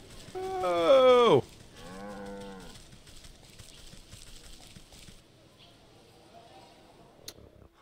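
Cow in the video game Wytchwood letting out one loud, close moo, followed by a second softer, shorter lowing call, then quiet game ambience.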